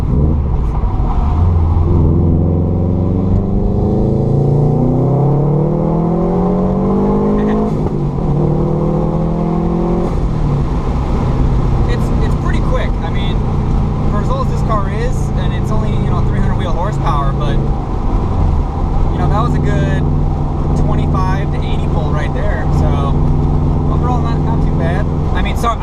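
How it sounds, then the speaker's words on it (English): A Subaru pulls hard from 25 to 55 mph on a highway, its engine note climbing through rising revs across several gears with a deep rumble and wind noise, loud and close from inside the cabin. "that was a 25 to 55 mile an hour pull right there"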